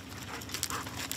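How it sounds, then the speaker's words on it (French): An explosive-sniffing detection dog working with French UN peacekeepers in southern Lebanon, heard as quick close panting and snuffling sniffs in short bursts. "Le chien renifleur lui a repéré quelque chose."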